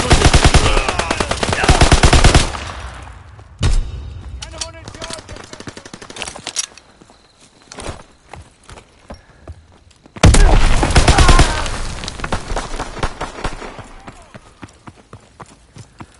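Video game gunfire from a WW2 battle: dense bursts of automatic fire and shots come in two loud stretches, broken by a quieter middle with scattered clicks, thuds and faint mechanical tones.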